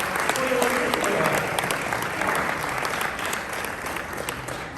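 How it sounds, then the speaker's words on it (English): Guests at a Boca Chamber gala applaud Al Travasos as he is called up, with dense, continuous clapping that is loud at first and eases a little, and faint voices murmuring beneath it. "Give Al a round of applause."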